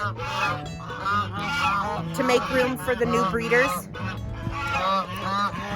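Geese in a farm pen honk loudly and repeatedly, close by, in overlapping agitated calls that run on throughout while someone talks over them.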